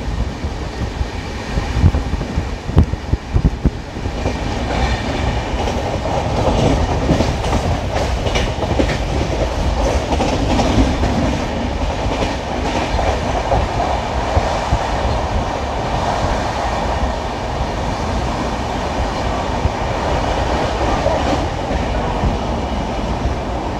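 The 12378 Padatik Express runs on rails between New Jalpaiguri and Sealdah past Jaugram station, a loud, continuous rumble with rhythmic clickety-clack of wheels over rail joints and rushing wind, heard from on board.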